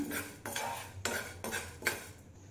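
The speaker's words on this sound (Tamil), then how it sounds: "அதே கடாயில 1/4 கப் துவரம் பருப்பு சேர்த்துக்கோங்க. அதையும் லோ ஃப்ளேம்லயே வறுத்துக்கோங்க." Toor dal roasts on a low flame in a kadai, heard as a few rhythmic scraping and clinking strokes of a metal spoon against the pan, close and fairly quiet.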